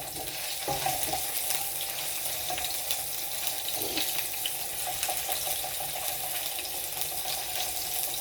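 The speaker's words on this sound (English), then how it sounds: "Whilst this is sizzling" A base of melted cubes, added before any onion, sizzles steadily in a frying pan for a samosa filling, with a constant soft crackling hiss and a few faint stirring scrapes.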